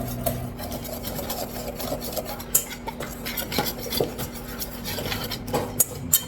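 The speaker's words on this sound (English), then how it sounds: "so that means you stir it with a whisk" A whisk stirs cookie ingredients in a bowl with a continuous close scraping and rubbing, broken by light taps and clinks against the bowl, with no voices.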